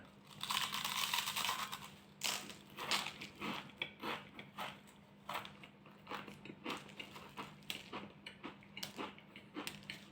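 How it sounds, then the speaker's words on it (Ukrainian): Crisp, crunchy bites into stacked Pringles potato chips crackle close to the mic, several sharp crunches in irregular bursts against a steady low hum. "Ну попробую я все це відкусити"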